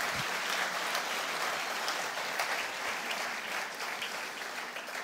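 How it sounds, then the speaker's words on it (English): An audience at the Pensado Awards applauds warmly, a thick, even wash of clapping that holds steady at moderate distance for about five seconds. "So a round of applause for Herb and Dave and the Pensado Awards."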